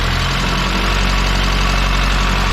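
An Opel C20XE engine that had not run for 14 years idles loudly and close by right after starting, a dense, steady mechanical rumble with a slight lumpy pulse throughout.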